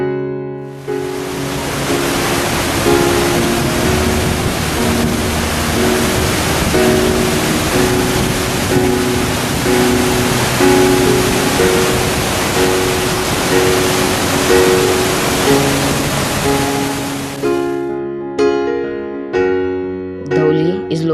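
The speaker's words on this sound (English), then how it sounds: "Now let us see the beauty of this waterfall." A waterfall near Tosegar village in Satara roars steadily as a dense, continuous rush of falling water, loud and unbroken for most of the stretch before cutting off to brief tonal sounds at the end.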